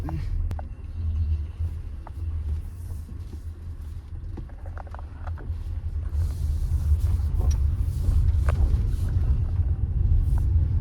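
A Tata Punch EV electric car drives along with a low, steady road rumble and faint cabin noise, growing slightly louder over time, with occasional soft clicks and light voices in the background.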